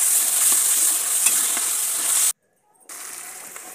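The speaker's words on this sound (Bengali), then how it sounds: "তার আগে আমি একটু তেলে ভালো করে মশলাটা কষিয়ে নিচ্ছি" Spice paste frying and being stirred in oil, a steady bright sizzle with scraping stirs for about two seconds, then a sudden gap of near silence before a quieter sizzle resumes.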